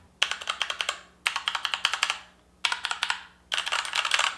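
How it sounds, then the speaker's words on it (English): Brisk bursts of typing on a Keychron K4 mechanical keyboard with brown switches, crisp close clacks in four quick runs separated by short pauses, loud and alone with no voices. "let's do a little typing test to see what these things sounds like"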